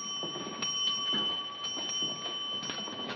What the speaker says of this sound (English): 7 bells. It's 11:30.